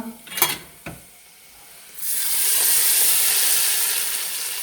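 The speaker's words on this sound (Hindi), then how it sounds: "अब हम इसमें लगाते हैं अपना तड़का।" A few clinks at first, then a loud, steady sizzle as tempering spices for chana dal hit hot oil, hissing continuously to the end.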